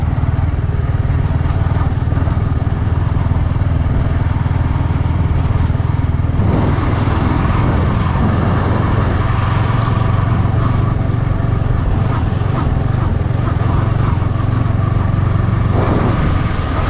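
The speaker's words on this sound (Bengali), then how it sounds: "নদীর পাশ দিয়ে আমরা আসলে বাইক নিয়ে আসতেছি" A sports motorcycle rides off-road along a riverside track, its engine droning steadily and close for the whole stretch, with a rough, continuous rumble and no pauses.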